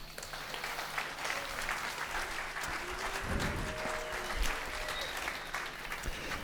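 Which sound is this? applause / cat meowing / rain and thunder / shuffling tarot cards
applause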